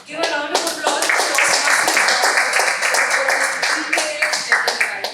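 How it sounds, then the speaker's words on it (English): A room full of people at a Toastmasters meeting gives a round of applause, brisk overlapping hand claps sustained at steady loudness for several seconds. "Give a round of applause for"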